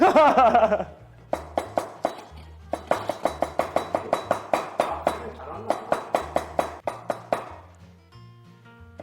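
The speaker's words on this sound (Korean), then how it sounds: "천원이 칼질 하는 걸 시키도록." Chinese cleaver chopping napa cabbage on a cutting board in a kitchen, quick bursts of sharp rhythmic knocks separated by short pauses, close and clear, with a few words of talk at the start.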